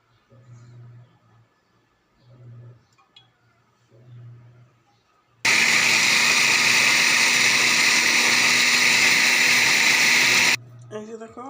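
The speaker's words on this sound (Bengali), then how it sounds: "আমি পাটায় বানাবো না, মেশিনে বানাবো" An electric grinder whirs loudly and steadily for about five seconds while mashing a bhorta seasoned with salt and mustard oil, cutting in sharply and stopping abruptly, with a voice talking quietly before and just after it.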